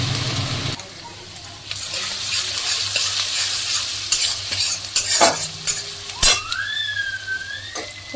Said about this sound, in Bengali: কড়াইতে যে তেলটা রয়েছে সেই তেলের মধ্যে দিয়ে দেবো এই আদা রসুন আর লঙ্কা